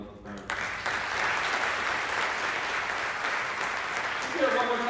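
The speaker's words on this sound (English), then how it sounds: "Let's give him a little round of applause." Audience at a Teacher of the Year ceremony bursts into sustained applause after a brief pause, the clapping steady and fairly distant.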